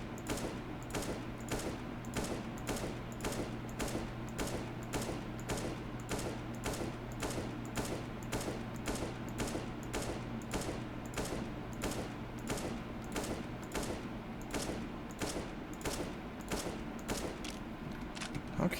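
Steady, evenly spaced rifle shots fired from an SKS for a CS:GO bullet spread test, a long run of sharp cracks at a slow, regular pace over a constant low hum.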